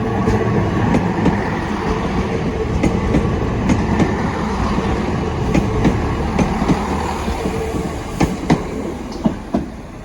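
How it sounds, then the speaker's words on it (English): A train bound for Cardiff Central passes close by at St Denys level crossing, with a loud, continuous rumble and rhythmic clicks of the wheels over the rail joints. "Here it is. Here comes our train."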